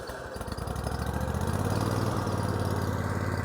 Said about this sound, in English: Okay, so we'll go ahead and start it up here.